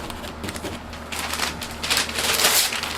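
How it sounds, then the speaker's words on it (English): Paper crumples and rustles as it is stuffed down into the sound hole of an acoustic guitar kit, a close, soft crinkling that grows busier toward the end, heard alone. "I'm going to take some paper"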